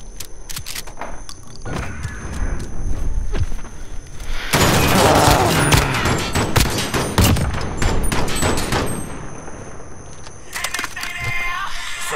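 Game gunfire from a Search and Destroy match, with a fire-type shotgun in play: dense volleys of shots and booms, heaviest in the middle stretch and continuing in bursts near the end.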